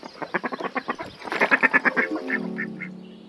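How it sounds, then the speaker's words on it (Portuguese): A duck quacks in a quick rapid series, close and clear, with a few louder, drawn-out quacks toward the end. "pato,"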